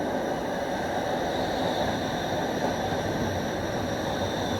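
A westbound TTC Line 5 Eglinton light rail train pulls into an underground station, a steady, loud broadband rumble and hiss that holds evenly throughout without talk.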